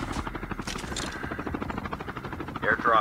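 Helicopter rotor chopping steadily in the Call of Duty Mobile video game, mixed with bursts of gunfire near the end.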